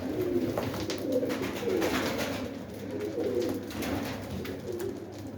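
Pigeons coo repeatedly nearby, overlapping soft throaty calls over a steady background hum, with no one speaking.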